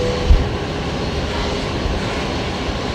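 A jet airliner departs a Brisbane Airport runway, its engines producing a loud, continuous broadband roar close by, steady throughout with no talk.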